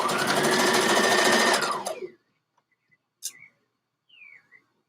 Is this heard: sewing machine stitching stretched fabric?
yes